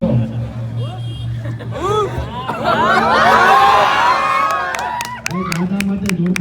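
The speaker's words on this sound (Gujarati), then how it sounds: "દાદા માટે જોરદાર તાળી છે." A crowd at an outdoor public appearance by a popular creator breaks into cheering and clapping over a loud voice and babble, swelling to a dense burst of applause before loud talk resumes.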